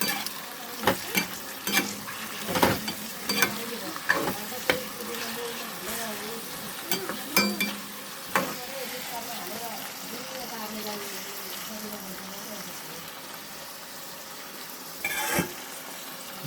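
Tomatoes frying and being stirred into a chicken biryani gravy, a continuous soft sizzle broken by sharp spoon scrapes and clinks against the pot, with a voice speaking faintly at times.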